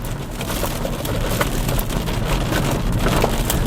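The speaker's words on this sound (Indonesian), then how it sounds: "Dan nih suara hujan gak terlalu masuk kan." Heavy rain drums steadily on the body of a VinFast VF5 electric car while driving, a dense continuous patter and hiss over low road rumble, muffled inside the cabin, with no talking.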